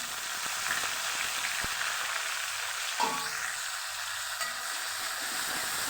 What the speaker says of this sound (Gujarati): અડધી ચમચી જેટલું જીરું મૂકશું અને જીરુંને સરસ ફોટવા દેશું